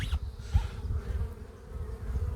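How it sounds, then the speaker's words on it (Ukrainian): Bees buzzing around hives in a peach orchard just after rain, a steady low drone at moderate distance with no talking. "працюють бджолки"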